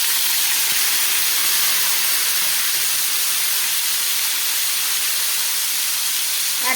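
Tomato dropped into hot frying oil left over from frying fish, giving a steady, loud hiss and sizzle that carries on evenly throughout with no talking.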